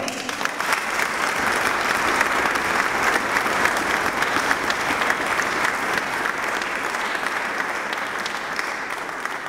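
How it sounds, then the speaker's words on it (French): Sustained applause from a sizable concert audience, loud and even throughout with dense clapping and no talking over it. "On peut les applaudir bien fort."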